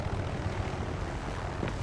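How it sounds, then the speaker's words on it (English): Aircraft engine drone from a helicopter flying overhead in the video game Far Cry 6, a steady continuous rumble that stays loud and unbroken throughout with no talk. "The helicopter really needs to go away."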